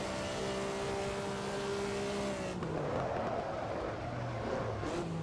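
A V12 race car sweeps past in the sim racing game Assetto Corsa at Monza, its high engine note rising then falling away abruptly amid tire and engine roar, with another engine droning underneath.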